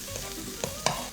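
Bacon sizzles softly in a frying pan, a faint steady crackle broken by a couple of sharper pops near the end.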